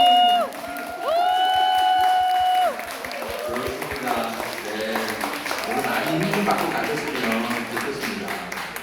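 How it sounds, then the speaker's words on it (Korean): Applause and cheering from an audience at a live talk event with a lawmaker, rising under a sustained tone that bends in pitch, then settling into steady crowd clapping mixed with voices. "여러분 뭐 박수 그냥 많이 칩시다 여러분"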